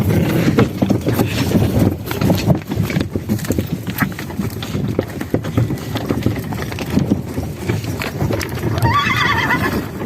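A Percheron draft horse in training clops its hooves steadily while neighing and snorting close by, with outdoor rumble and wind behind, a louder whinny near the end and a voice briefly heard.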